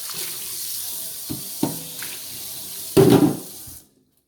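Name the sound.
rinsing something under a running tap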